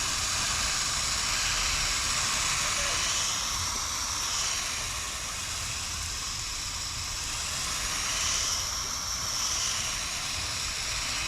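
A direct-connect hose-end sprayer mists a nectarine tree for leaf curl, giving a steady, close hiss of water spray that runs unbroken for the whole stretch with slight swells in intensity.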